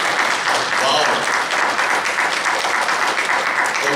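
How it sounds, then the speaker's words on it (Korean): A church youth service congregation applauds together, a dense sustained burst of clapping filling the room, with faint talk mixed in. "박수 한번 드릴까요?"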